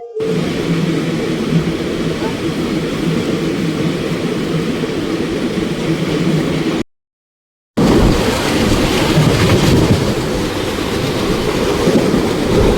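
A diesel-hauled passenger train runs at about 105 km/h, its steady loud rumble and broadband roar filling the cabin, with one brief silent gap partway through.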